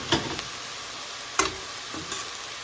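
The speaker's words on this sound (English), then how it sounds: "Okay, so I'm going to just saute this." Homemade chili with spices sautéing in a pan, giving a steady broadband sizzle broken by a few sharp clinks of the spoon against the pan.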